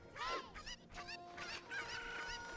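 Cuckoo chickens clucking in the video game Ocarina of Time: a quick series of chirpy, pitched clucks and squawks, fairly faint, with a soft tonal game sound running under them.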